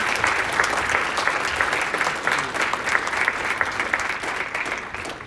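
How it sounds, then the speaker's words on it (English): An indoor audience at a memorial event gives a round of applause. Even, sustained clapping from a moderate crowd lasts about five seconds and slowly tapers off. "Let's give him a round of applause."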